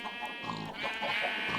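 Sheep in Sky Factory, a Minecraft modpack, bleating just after being sheared, with several short wavering bleats over a quiet farm background at moderate volume.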